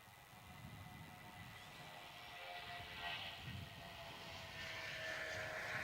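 Jetstar airliner rolling for takeoff on runway 16 at Melbourne Airport, a steady distant engine roar that swells gradually over several seconds, with a high whine on top.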